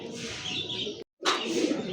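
A pigeon coos up close, two soft throaty calls separated by a brief silent gap.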